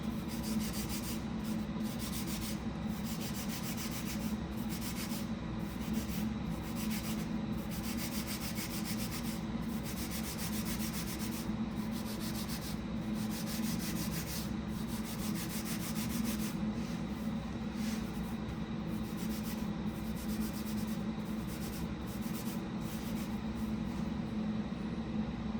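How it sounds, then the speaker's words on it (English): The soft side of a sponge wet with hydrogen peroxide rubs steadily over a stain on a granite countertop, a continuous quiet scrubbing with a fast rhythm that runs throughout. "I'm going to attempt to rub the stain out"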